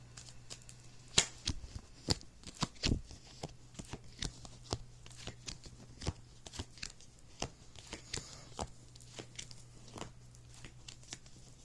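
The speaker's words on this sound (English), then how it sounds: "give this deck one more shuffle" Oracle card deck being shuffled during a reading, a quiet run of soft riffling and tapping clicks spread irregularly across the stretch, close and faint with a low steady hum underneath.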